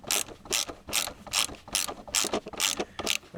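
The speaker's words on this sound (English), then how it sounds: "I'm going to use a 13mm deep and a long extension just so I can get the ratchet up and out of the way." A ratchet on a 13mm deep socket and long extension loosens thermostat bolts on a Chevy Blazer Vortec engine, giving a rapid run of about eight clicking bursts in steady rhythm, close and clear.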